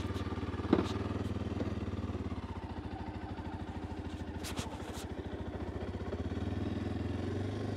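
A supermoto motorcycle ridden around a residential cul-de-sac, its engine puttering steadily at low revs with a pulsing rhythm, heard fairly near throughout.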